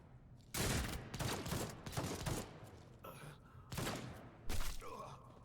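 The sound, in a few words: gunfire from the video game Warhammer 40K Rogue Trader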